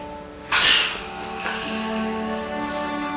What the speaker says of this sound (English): So there's the gas coming out.